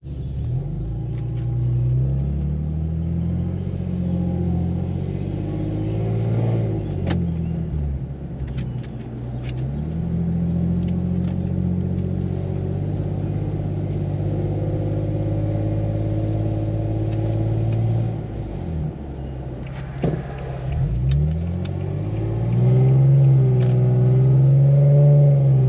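A Nissan VQ37 engine fitted with ISR high-flow catalytic converters, heard from inside the car while driving. A steady low rumble carries through the whole stretch, with gear shifts and occasional revs rising and falling.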